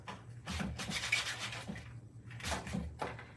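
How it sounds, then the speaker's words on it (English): A DIY standing craft pumpkin is being lightly sanded by hand, producing soft raspy rubbing strokes in bursts with a short pause before the final few passes. "I'm just gonna lightly sand"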